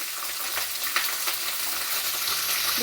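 Onions and green chillies sizzle steadily in hot oil for a chicken masala, a dense continuous frying crackle with a few small stirring clicks, close and moderately loud with no talking.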